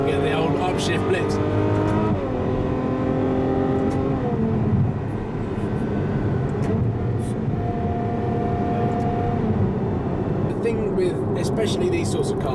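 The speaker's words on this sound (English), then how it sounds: "Oh, now the engine's warm. You get the old upshift blitz." A 730 bhp Ferrari F12 Berlinetta with a warm engine accelerates hard, its loud, close engine note climbing and dropping in quick gearshifts, while someone talks over it.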